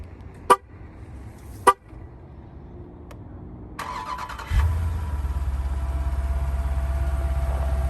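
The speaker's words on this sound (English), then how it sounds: "So pressing this twice will start the Jeep." A 2021 Jeep Grand Cherokee SRT starts remotely from the key fob: two short horn chirps, a click, then the engine cranks and catches into a steady, deep idle that continues to the end.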